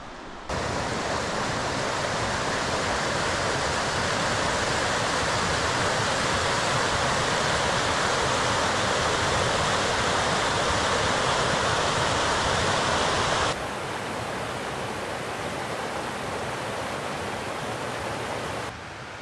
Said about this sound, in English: along with the river, which you can hear